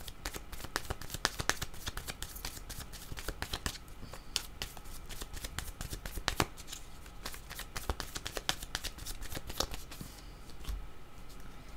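Playing cards are shuffled continuously and close up, giving a dense run of rapid riffling clicks and flicks before the deck is cut.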